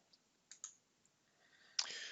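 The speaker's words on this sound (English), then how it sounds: "click on it, and then click delete" A computer mouse clicks a couple of times in quick succession in a quiet room, faint and crisp, followed by a short burst of rustling noise.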